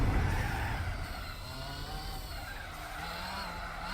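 A Toyota GT-One race car in Gran Turismo 4 roars along with a steady high engine whine and squealing, skidding tires, sustained and fairly loud with no talking.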